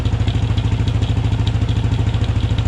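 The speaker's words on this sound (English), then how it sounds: "Now we're gonna put her in gear and let her spin." Motorcycle engine idling in gear on a stand during chain maintenance, rear wheel and chain spinning, a loud close steady pulsing thrum with a faint rhythmic clatter from the chain, no talking.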